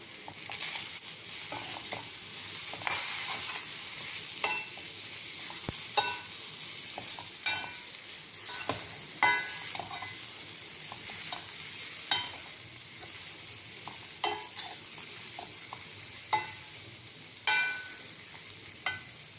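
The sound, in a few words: stirring potato and okra masala curry in a pan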